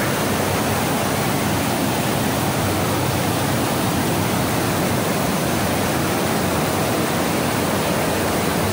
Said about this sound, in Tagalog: Nandito na po tayo sa pangalawang falls.